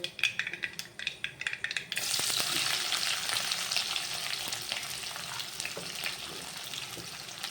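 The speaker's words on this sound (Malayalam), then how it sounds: "ഇതേ കടുകെല്ലാം പൊട്ടിയിട്ടുണ്ടേ" Mustard seeds crackle and pop sharply in hot oil for a couple of seconds, then a loud continuous sizzle takes over as onion and garlic go in for a beef curry.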